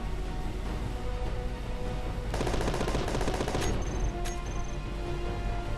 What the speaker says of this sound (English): there's the autocannon for you. Just absolute destruction. And it's only firing 1